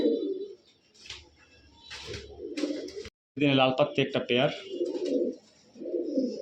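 Pigeons coo in short bursts among a pair of large red-patterned fancy pigeons, with someone speaking over and between the calls close by.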